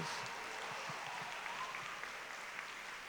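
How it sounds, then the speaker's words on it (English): Audience applause at a high school 50th anniversary celebration, steady dense clapping from a crowd sustained throughout at moderate distance. "nice round of applause."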